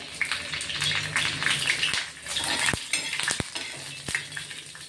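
Curry leaves sizzling in hot oil alongside cumin and garlic, a steady close crackle with several sharp clinks of a spoon against the pan and stirring scrapes.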